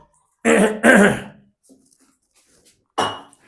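A man clears his throat in a series of harsh rasps, two close together and another a moment later, with faint clinks in between in an otherwise quiet room.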